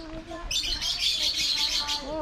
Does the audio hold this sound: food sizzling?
no